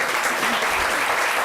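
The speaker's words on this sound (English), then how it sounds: "we love the applause, but we're going to try to keep this moving" An audience at a county commission meeting breaks into brief applause, a dense, moderately loud burst of clapping in a meeting room lasting a second or two.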